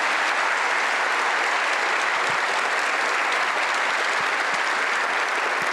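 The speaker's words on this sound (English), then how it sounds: "Good clap." Audience applause following a population health talk: a broad, dense wash of clapping from a large crowd, loud and unbroken throughout with no voices over it.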